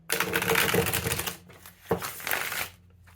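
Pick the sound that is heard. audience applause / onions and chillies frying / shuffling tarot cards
shuffling tarot cards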